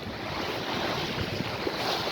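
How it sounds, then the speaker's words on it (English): Heavy sea swell and wind at night off the Kent coast, heard from a sailboat heading to Dover with wind over tide making the water lumpy; a steady, dense wash of surf and wind noise with no talk. "There's quite a lot of swell here at the minute. Wind over tide action. It's quite lumpy"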